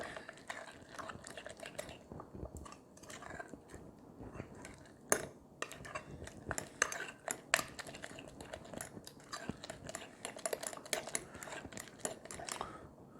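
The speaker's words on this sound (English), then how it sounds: "Then I'm going to mix in the mozzarella in with it." Mozzarella being worked into keto pizza chaffle batter with a utensil, giving close, busy scraping and clicking taps against a bowl that repeat irregularly throughout, with a few sharper knocks and no talking.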